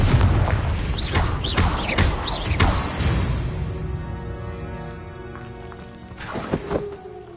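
A Confringo fire-spell explosion in the video game Hogwarts Legacy: several loud booming blasts in quick succession that fade into ringing tones, with one more sharp hit near the end.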